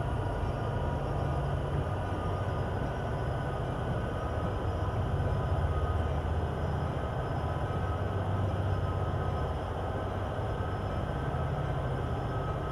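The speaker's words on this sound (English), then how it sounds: "handle the train coming down the hill." In the Train Sim World 2 video game, a train rolls down Sherman Hill with a steady, faint, low rumble that holds level with no pauses and no voices.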